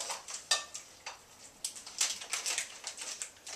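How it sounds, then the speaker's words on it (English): A spoon stirring chocolate toffee in a pan on the stove: a series of light, irregular scraping taps and clinks against the metal, close and fairly quiet, with no talking. "I'm just going to stir as it gets a little browner."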